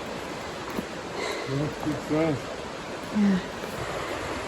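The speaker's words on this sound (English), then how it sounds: "We can hear the creek. Sounds pretty big" A sizable creek flows at the bottom of a canyon, giving a steady, distant broadband rush that continues throughout, while a voice speaks briefly over it.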